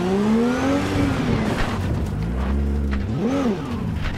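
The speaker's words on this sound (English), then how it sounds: "There's a car coming, no, let's let him go by." A car is driven in the video game Cyberpunk 2077, its engine loud and close, revving up and down through gear changes with a rising and falling whine, and no voices over it.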